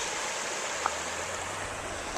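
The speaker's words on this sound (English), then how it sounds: "What a lovely wee bit of the river." A small stretch of river in Stonehouse flowing steadily, a close, even wash of broadband water noise with no pauses and a faint knock partway through.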